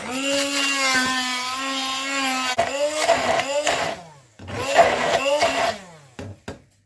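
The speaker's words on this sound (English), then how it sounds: "And then I'm going to blend these together." A kitchen blender whirs through coriander and spices: a loud, high motor whine runs steadily at first, then breaks into short repeated pulses with brief gaps between them.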